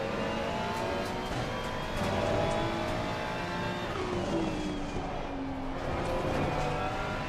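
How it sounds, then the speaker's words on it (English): A Porsche race car accelerates in a racing video game, a steady, moderately loud engine whine climbing in pitch with gear changes and a faint second car nearby, no talking. "The Porsche's got that acceleration."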